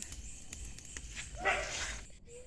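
A dog at night gives a few yips and whimpering barks, fairly faint and distant against quiet background noise.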